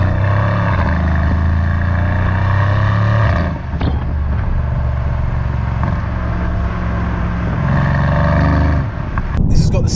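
A Mercedes C63 AMG coupe with its exhaust valves open gives a deep, steady engine rumble that stays loud and close, with someone talking over it.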